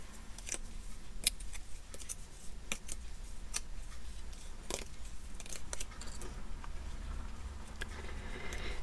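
Scissors cut scrapbooking paper close by, giving a run of quiet, crisp snips and clicks over a faint background hum, with no talk.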